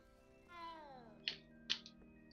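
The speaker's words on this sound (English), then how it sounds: "Pet that cat." A cat meows in a video game: one drawn-out, falling meow followed by two short, sharp mews, fairly close over a quiet background.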